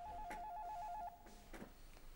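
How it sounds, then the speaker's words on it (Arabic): A telephone rings indoors with a warbling electronic trill for about a second, then fades to a quieter room background with faint clicks. "التليفون بيرن."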